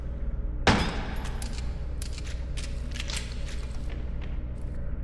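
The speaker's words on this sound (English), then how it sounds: "That one's gonna take more than one bullet to shoot." Gunfire in the horror video game Crow Country: one sharp loud shot followed by a scatter of quicker clicks and impacts against a steady background drone.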